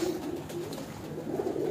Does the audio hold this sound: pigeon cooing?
yes